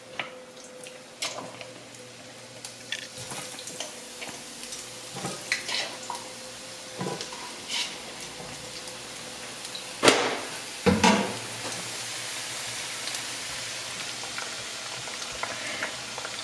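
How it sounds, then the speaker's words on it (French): Turnip fries sizzle and fry in hot oil nearby, a steady crackle broken by scattered clinks and stirring scrapes, with no talking. "Et on va faire notre friture de navet."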